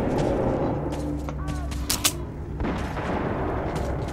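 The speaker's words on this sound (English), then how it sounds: "I hear gunshots." Gunfire in the video game Metro 2033, a few muffled booming shots over a loud low rumble of game ambience, with a couple of sharper cracks midway.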